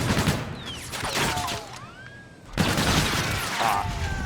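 Heavy machine gun fire in a shooter video game, loud dense bursts of rapid shots near and continuous, with a brief lull midway before firing resumes amid game effects.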